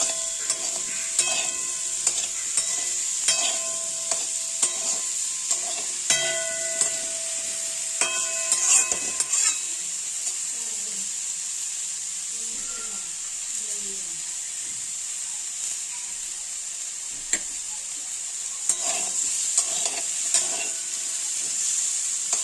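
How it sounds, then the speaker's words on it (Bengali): Potato and eggplant fry in oil over a high flame with a constant bright sizzle, punctuated early on by clinks and scrapes of a spatula against the pan, and a voice speaking intermittently over the cooking. "এটা হাই ফ্লেমেই করবো আপাতত। আলু বেগুনটা মোটামুটি ফ্রাই হোক।"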